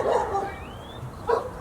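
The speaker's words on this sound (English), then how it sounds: "I think the dogs might know we're here" Dogs barking outside a rental house in Cleveland, two short bursts of barks and yips at the start and near the end, moderately close, with a faint whine between them.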